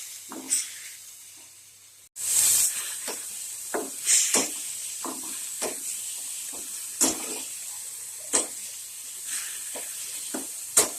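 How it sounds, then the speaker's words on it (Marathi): Spinach being cooked in hot oil for palak puri gives off a steady sizzle and hiss, broken by scattered crackles and pops. It carries on throughout, close by and alone, with no talking. "वाफवून घ्यायचे पालक तेलामध्ये।"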